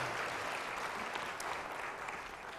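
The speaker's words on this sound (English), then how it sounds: "we can clap for that." A church congregation applauding together during a service: a steady wash of clapping from many hands that holds evenly throughout, slightly distant and without any speech.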